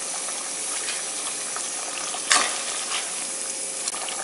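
Mashed boiled potato being stirred into a sizzling Tamil potato curry gravy in a pan, a steady frying hiss with soft scraping stir sounds and one brief louder clink, close and without talk.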